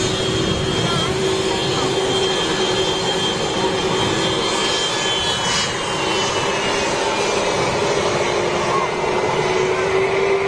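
Virgin Boeing 747 jet taxiing briskly at Manchester Airport, a loud steady engine roar with a sustained whine and a slowly gliding high tone, constant throughout with a voice faintly beneath.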